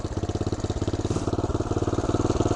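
A 1975 Honda Redline Powroll 412cc single-cylinder thumper motorcycle idling up close, a loud steady chugging pulse of evenly spaced beats with no talk.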